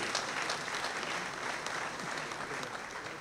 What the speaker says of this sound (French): je vous demande encore d'applaudir les ministres provinciaux qui sont avec nous